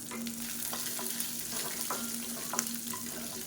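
Onion and garlic sautéing in a pan for karpooravalli thovayal, giving a low continuous sizzle with soft intermittent stirring, a steady hum and one brief clink, close and fairly quiet with no talking.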